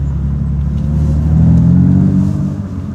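A BMW M3 F80 Competition in Java Green rumbles loudly outside the car, its engine swelling into a deep rev midway, then easing off, with no talk.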